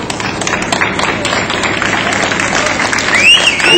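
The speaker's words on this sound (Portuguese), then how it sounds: "Uma salva de palmas para eles." A crowd claps and cheers at a street demonstration in São José dos Campos, a loud, dense outdoor wash of applause with shouting mixed in and a brief whistle near the end.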